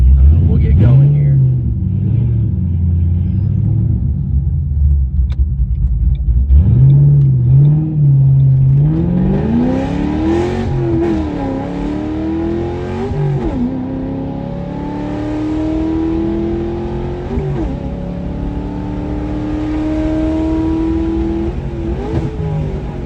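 A manual-transmission car idles, then pulls away and accelerates through the gears, the engine note rising and dropping with each shift in a loud, close in-cabin drone.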